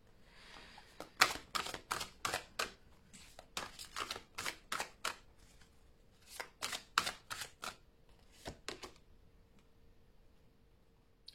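Cards shuffled by hand to draw an advice card, giving a series of quick, crisp riffling bursts in an irregular rhythm over about ten seconds. Close and fairly quiet.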